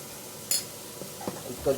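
Onions frying in a pan with salt give a soft sizzle, broken by a few short stirring scrapes and light clinks of a utensil against the pan.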